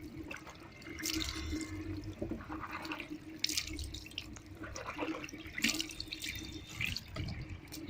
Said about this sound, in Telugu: 3 సార్లు నోట్లో నీళ్ళు వేసుకుని ఊసే